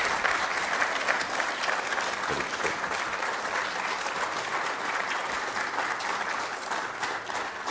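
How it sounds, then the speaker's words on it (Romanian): Audience applause at the award ceremony of the Grand Prix Nova festival, tenth edition: dense, sustained clapping from a large crowd, steady and even throughout. "Aplauze de asemenea."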